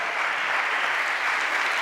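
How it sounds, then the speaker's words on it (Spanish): A church congregation breaks into brief, dense applause, a steady burst of clapping filling the room with no talking over it. "A un aplauso al Señor."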